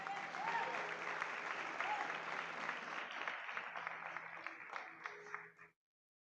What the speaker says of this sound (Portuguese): Dá uma salva de palmas para elas, gente.